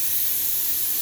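A steady steam hiss from a home kitchen pressure cooker venting fills the short moment as a constant broadband rush with nothing else over it.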